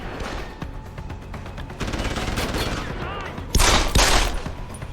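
Enemy gunfire in Deus Ex: Human Revolution, a steady chatter of automatic shots with sharper, louder bursts toward the end, dense and close throughout.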